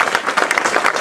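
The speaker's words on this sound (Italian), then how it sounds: "ringrazio il direttore artistico Fabrizio Bosi, a cui farei un calorosissimo applauso" An audience at a jazz festival applauds the artistic director, a brief, dense patter of many hands clapping at close range.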